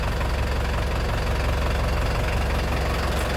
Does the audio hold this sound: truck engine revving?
yes